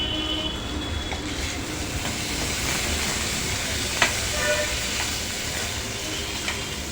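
Chopped tomato sautéing with turmeric in a pan for a cauliflower and potato dish, a steady broadband sizzle and hiss throughout with a few faint stirring clicks and no voices.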